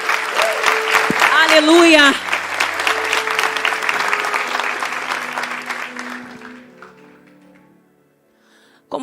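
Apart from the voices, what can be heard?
congregation applause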